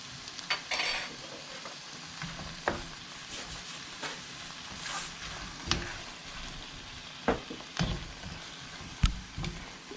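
Tomato and onion sauté in a pan with salt while a spoon stirs them for chicken biryani. A soft sizzle runs underneath, broken by sparse, irregular scrapes and taps from the spoon, and no one talks.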